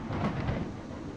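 Thunder from a thunderstorm rolls as a dense, low rumble with a hiss of rain, steady and moderately faint throughout.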